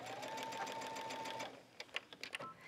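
A sewing machine stitches a sweater seam, a steady run of rapid needle strokes for about a second and a half, then stops and gives way to a few scattered clicks and handling sounds, with no talking.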